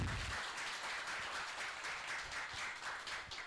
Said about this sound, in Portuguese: eu queria uma salva de palmas para eles